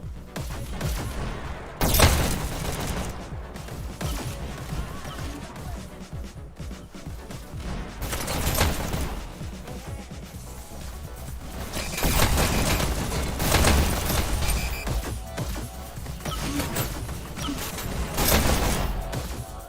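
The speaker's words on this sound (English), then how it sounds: "Nice headshot by Goblin right there, as he's falling too" Rapid gunfire bursts and impacts from a VR esports shooter game during a league playoff match, dense and loud throughout with repeated volleys and booms swelling and fading.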